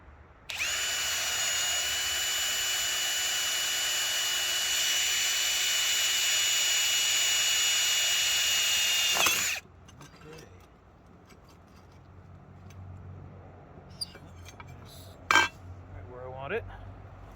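An electric drill bores a hole while making a railway track point blade, running steadily and loud for about nine seconds before stopping, followed by quieter handling clatter and brief knocks.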